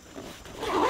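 A two-way zipper on the main pocket of an Osprey Archeon chest rig is drawn open in one quick, close rasping pull that rises toward the end.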